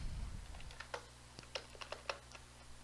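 Keys clacking on a computer keyboard as a terminal command is typed, a quiet run of separate close taps at an uneven rhythm following a short low rumble at the start.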